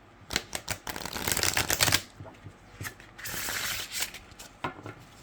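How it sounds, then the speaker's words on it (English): Rapid riffle shuffling of a tarot deck with Llewellyn cardstock, crisp fluttering bursts repeated several times with brief taps and pauses in between, close up. "So let's do some riffle shuffling."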